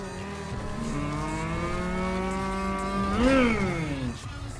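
Car driving in the GTA video game, a continuous engine hum that climbs in pitch, swells briefly near the end, then drops away, close and without talk.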